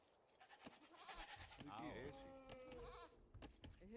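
In the strategy video game Age of Empires 2, sheep bleat in a few short, wavering calls over a busy backdrop of game sound effects.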